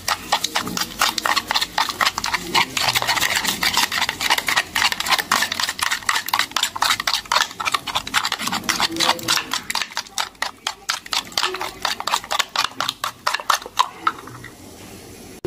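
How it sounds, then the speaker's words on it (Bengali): Eggs and sugar are beaten by hand in a bowl, making a fast, steady clicking and tapping that continues for about fifteen seconds and loosens slightly toward the end. "এখন আমি চিনিটা ডিমটার ভিতরে দিয়ে দেব। এবার ভালো করে ফেটে নেব।"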